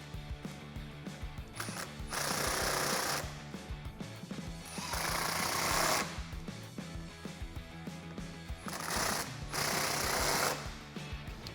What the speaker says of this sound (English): we can tighten those up once those are threaded with that T40 Torx socket